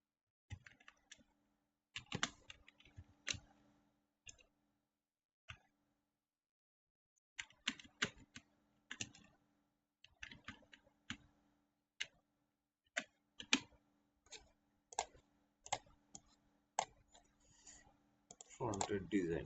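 Computer keyboard typing as a channel name is entered, in short bursts of quick clicks separated by pauses, fairly close and clear, with no talking.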